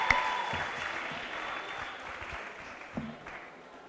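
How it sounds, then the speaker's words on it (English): Conference attendees give a round of applause, a soft, fairly distant patter of clapping that gradually fades, with a couple of louder claps near the start and toward the end. "please give a round of applause for Jose Fernandez"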